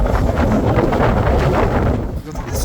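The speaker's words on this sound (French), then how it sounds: "Vous entendez ce vent, ça souffle grave." Strong wind buffets the microphone with a loud, rumbling roar that gusts unevenly and then eases off near the end.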